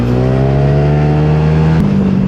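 A passing motorcycle's engine drones loud and close during a ride on a Honda Giorno 160cc scooter, with a steady tone that shifts slightly in pitch as it goes by.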